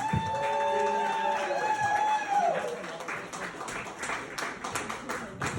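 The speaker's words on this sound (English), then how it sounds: "Can we give him a fucking round of applause?" A live comedy crowd in Honeybrook, PA applauds and cheers as a comedian is welcomed to the stage. The clapping builds into a broad, dense roar that fills the room, with tonal sound and voices mixed in before it.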